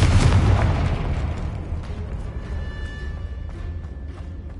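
A Confringo blast spell erupts in Hogwarts Legacy, a loud booming explosion at the start that rumbles and slowly fades over several seconds into a low lingering tail.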